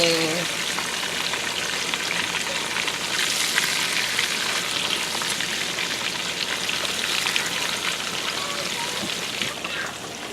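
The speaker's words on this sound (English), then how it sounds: "Slide them into my hot oil to fry up." Breaded chicken frying in hot oil, a dense, steady crackling sizzle that fills the clip at close range and moderate loudness, with no talking.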